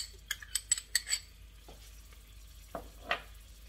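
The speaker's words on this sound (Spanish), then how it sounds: "vamos rapidito por aquí a echarle nuestras 2 cucharadas de sofrito. Le voy a ponerle por aquí mis 2 cucharadas de ajo molido" A spoon scrapes and clinks against a pot as sofrito and ground garlic go in for Cuban congri rice cooked in a rice cooker, a cluster of quick metallic taps and scrapes, then a few softer stirs after a pause.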